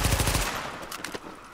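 Rapid burst of automatic gunfire in The Division, a quick run of close shots in the first half-second that tails off into fainter echoes and scattered sounds.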